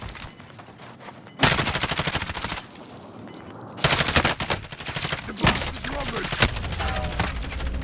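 Automatic weapon fire in Call of Duty Modern Warfare Warzone, loud rapid bursts of machine-gun shots in several long strings with short pauses between, close and dominant, with mechanical clatter and brief game sounds in between.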